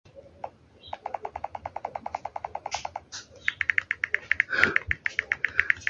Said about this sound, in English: your keyboard will sound like this.